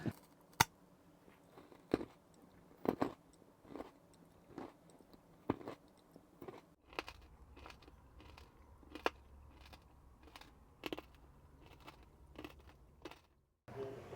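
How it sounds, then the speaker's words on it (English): Loud crunching from someone eating inside a small campervan, heard as sharp, close, irregular crunchy bites spaced a second or so apart over quiet background hiss. "loud crunching."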